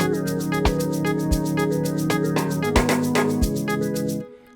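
An amapiano beat built in FL Studio, with a bright timbre percussion hit layered over shaker and wood drums, repeating in a steady pattern above a sustained low bassline and chords, close and loud, with no voices, ending abruptly.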